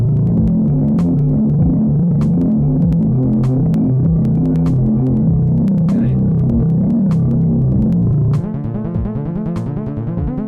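A resonant, throbbing synthesizer tone through a resonator effect hums steadily with sharp metallic ticks, then shifts to a denser buzzing texture near the end.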